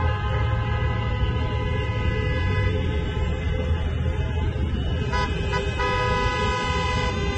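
Cars in a rally in Berlin stream along a road in a constant traffic roar, with short toots of car horns honking repeatedly through it.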